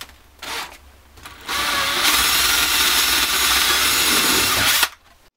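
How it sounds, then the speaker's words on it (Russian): A power drill with a 6 mm bit bores holes, its whine rising sharply after a couple of short bursts and holding steady and loud for about three seconds before cutting off. "Сверлышко на 6 и поехали."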